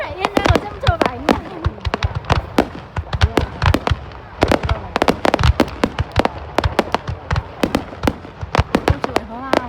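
High-altitude fireworks burst over Dinh Tien Hoang square in Hoa Lu, Ninh Binh, Vietnam, a dense string of sharp cracks and booms going off in rapid irregular clusters, with people chatting nearby between and under the blasts.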